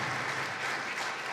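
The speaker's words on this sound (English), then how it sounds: "So I'd like to give everybody else a round of applause that's in here" Brief, dense applause fills a hall during a sports hall of fame ceremony, a steady wash of many hands clapping at once, moderately loud and unbroken.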